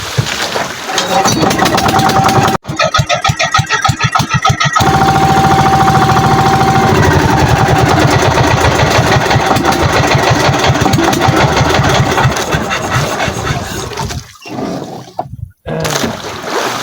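A small fishing boat engine sputters into life and then runs loudly and steadily at close range, with a rapid knocking chug. A brief pause and some rough bursts come near the end.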